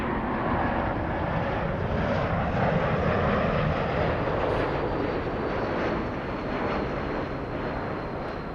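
A jet airliner roars on takeoff at Los Angeles airport, a loud broad rumble that holds steady throughout with no voices.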